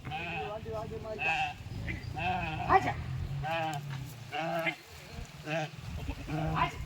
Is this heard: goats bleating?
yes